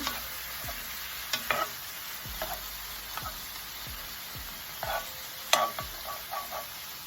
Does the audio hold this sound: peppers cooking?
yes